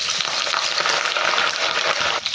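Mustard seeds, dried red chillies and curry leaves frying in hot oil, a loud, dense, continuous crackling sizzle heard close up and alone.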